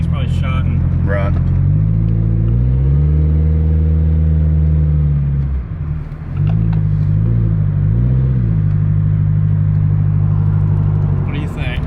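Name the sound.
Nissan 240SX engine with muffler deleted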